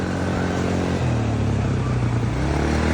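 A motorcycle engine runs close by, rumbling steadily and then lifting slightly in pitch as it revs up a little.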